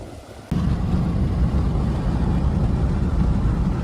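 A farm vehicle drives out to a grain threshing floor, its engine and road noise starting abruptly and then holding a loud, steady low rumble throughout.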